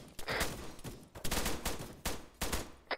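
Gunfire in the military video game Arma 3 crackles in rapid bursts, a series of sharp shots and short volleys repeating over three seconds, loud and close with brief gaps between them.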